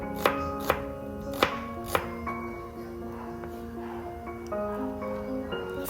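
An onion is chopped on a board with a knife: four crisp, close knocks at an uneven pace, followed by quieter kitchen handling.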